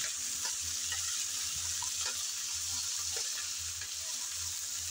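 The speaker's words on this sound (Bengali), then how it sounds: "কেটে রাখা ঢেঁড়স দিয়ে দিলাম। তেলে সামান্য নাড়িয়ে ভেজে নেব।" Cut okra stirred and fried in oil after onions, a dense, steady hiss of frying close by with light, irregular taps and scrapes of a spoon running through it, no voices.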